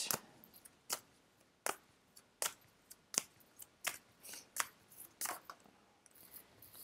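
Angel oracle cards are shuffled in a run of crisp, rapid riffling bursts, a dozen or so sharp flutters in an irregular rhythm, close and fairly quiet.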